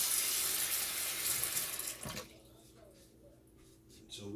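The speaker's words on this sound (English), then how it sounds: "And we're going to fill it up with some cold water." Cold tap water runs loudly into a pot, a strong steady rush that cuts off after about two seconds and leaves quieter kitchen noise.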